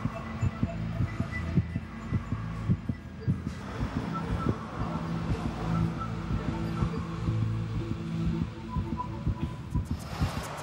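Steady rhythmic heartbeat thumps, a human heart at rest, repeating about twice per second as a low pulsing throb under a faint continuous hum, with no voices.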